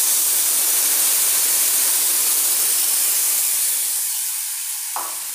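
Loud, steady hissing sizzle of spices frying with fried onions in a hot pan, fading slightly before a brief clink of a utensil near the end.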